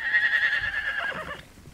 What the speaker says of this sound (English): Driving some 85 horses more than 60 miles over 3 days